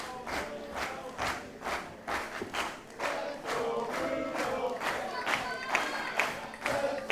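Pro wrestling crowd cheering and shouting at a championship match, a loud sustained roar with rhythmic bursts like chanting or clapping running throughout.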